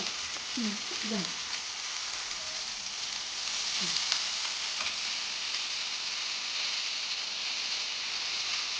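Fish frying in a pan of oil for a homestyle fried fish dish: a steady, close sizzle that runs throughout, with a few faint clinks near the start.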